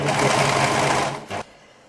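A sewing machine runs steadily and loudly, topstitching a tunic shirt, with a fast continuous whir that stops abruptly after a short final burst.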